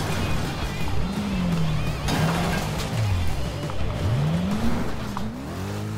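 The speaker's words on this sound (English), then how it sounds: "That's a pretty nice crash." A car crash in the racing video game Wreckfest, heard as continuous engine drone with rising and falling revs, tire squeal and a brief impact clatter in the middle, no speech.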